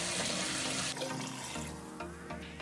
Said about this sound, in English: Wash 1 cup of sweet rice 2 or 3 times